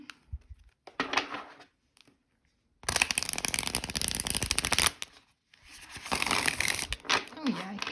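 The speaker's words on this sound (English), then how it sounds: "sometimes when you shuffle a deck like this with this matte cardstock" A deck of matte cardstock tarot cards being riffle shuffled, with bursts of dense papery riffling and fluttering separated by brief quiet gaps while the cards are handled between shuffles.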